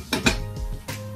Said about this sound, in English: I'm just going to cover this up now and leave it to cook